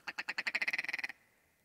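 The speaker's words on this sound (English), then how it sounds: "I can hear them cackling." A rapid series of about fifteen cackling bird calls, accelerating then stopping abruptly, fairly faint and distant in an otherwise quiet backcountry setting.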